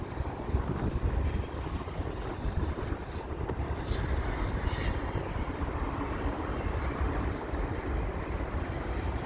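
A Canadian Pacific freight train with double-stack cars rumbles past steadily below a bridge, with wheels squealing in bursts over a continuous rolling clatter.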